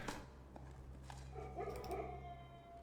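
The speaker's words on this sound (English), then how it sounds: "That time kennel triggered and they barked." Dogs in a kennel in the video game Blue Prince bark and whimper in a short, faint burst, set low under a steady hum of game ambience.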